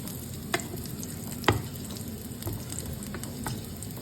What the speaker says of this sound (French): on va faire revenir un peu d'oignon dans la poêle